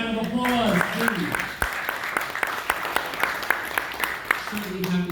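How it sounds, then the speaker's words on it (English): Audience clapping at a Columbus Day breakfast, scattered claps under a speaking voice that opens and closes the moment, moderately loud in a room. "Give those groups all a round of applause, please."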